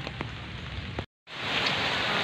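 Heavy rain pours in a dense, steady hiss with scattered drops pattering close by, cut off by a brief moment of silence before the downpour resumes even louder.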